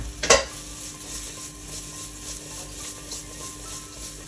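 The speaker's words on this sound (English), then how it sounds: "add in a quarter of a teaspoon of chili" Chili flakes are stirred into a pan of sizzling oil while cooking salt, pepper and chili aubergine, giving a steady close frying hiss with one sharp utensil scrape near the start.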